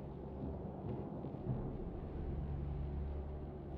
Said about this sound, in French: C'est trop risqué avec ces orages.